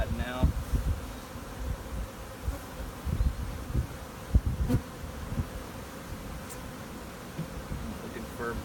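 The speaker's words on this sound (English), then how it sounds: "Got this cluster of bees up top." A cluster of bees hums steadily in a hive, a dense, close buzzing with soft rustles and occasional taps, a voice faintly present.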